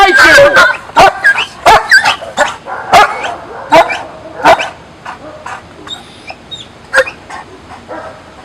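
A police K-9 dog barking in rapid, sharp, loud bursts close by, the barks coming in quick irregular runs that thin out toward the end, with someone shouting over them.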